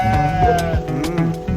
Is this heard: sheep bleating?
yes